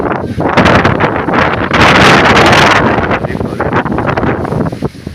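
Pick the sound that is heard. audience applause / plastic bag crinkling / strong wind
strong wind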